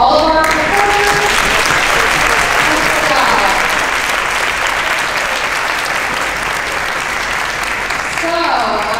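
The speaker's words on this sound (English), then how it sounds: "Give a round of applause for all of our performers." A school audience gives loud, sustained applause for fifth-grade band and orchestra performers at a concert, with dense clapping filling the whole stretch and a few voices mixed in.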